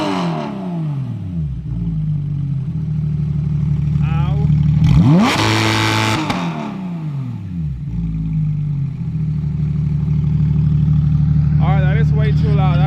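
A Porsche 991.2 GT3 RS with its catalytic converters removed revs hard. The exhaust climbs to a loud, harsh peak, falls back to a rumbling idle and then rises again, with speech heard over it.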